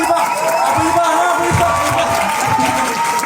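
A comedy club crowd applauds and cheers during a stand-up set, a continuous dense roar of clapping and voices with whoops mixed in, loud throughout.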